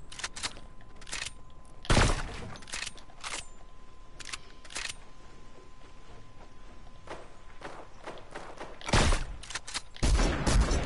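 Bursts of video-game gunfire in a duos match, short sharp volleys around two, nine and ten seconds with scattered lighter shots and clicks between, fairly close and loud, no talking.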